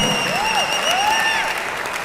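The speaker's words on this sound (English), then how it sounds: "a massive round of applause for the finalist, Martins Atkins" Crowd applause for a teenage darts champion at the Isle of Man Festival of Darts, dense steady clapping throughout, with a few whistle-like rising tones over it and no clear talk.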